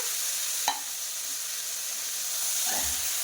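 Koi fish frying in oil with spices, a steady close sizzling hiss with a couple of brief stirring clinks, one sharp knock early and a scrape near the end.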